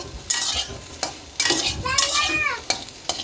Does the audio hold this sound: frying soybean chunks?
yes